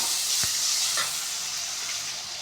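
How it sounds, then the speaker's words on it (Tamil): Onions and tomatoes sautéing in a pan with a little salt for egg fried rice, a steady close sizzle with a couple of sharp scraping stirs near the start. "உங்களுக்கு வெங்காயமும் தக்காளியும் நல்லா வதங்கணும்னா லைட்டாக சால்ட்டு தூவிட்டு நல்லா வதக்கிக்கோங்க"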